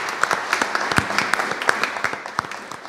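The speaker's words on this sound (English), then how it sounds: "let's give them a round of applause if we could" A modest audience in one room claps for a presenting sponsor, with sharp individual claps standing out over a continuous patter at close to moderate distance.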